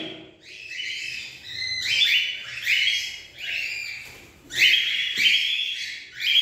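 Birds in a colony with chicks chirp and call in repeated bursts of bright, shrill whistling notes, fairly close and lively, with no talking.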